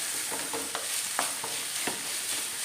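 Chopped onions sizzle in a pan for a chicken samosa filling, with several scraping stirs of a spoon cutting through the steady close frying hiss.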